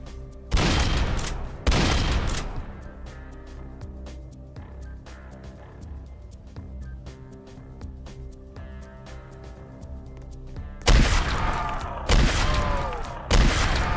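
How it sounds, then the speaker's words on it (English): Gunfire in the Roblox game Dead Rails, with loud booming shots at the start and a burst of several more near the end, separated by a quieter stretch of game ambience. "One shot, 3 outlaws down."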